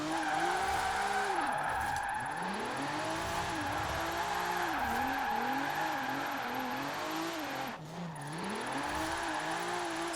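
A Nissan 300ZX drifting in Forza Horizon 4, its engine droning and revving in waves as tires squeal steadily through tight corners, loud and close throughout.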